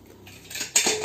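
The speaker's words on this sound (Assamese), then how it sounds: "মই ঢাকনখন মাৰি এতিয়া গেছটো তুলি দিমগৈ" A metal lid, set on a pressure cooker holding taro, clinks and clatters close by in a brief rattle that ends in a sharper knock, with no voices.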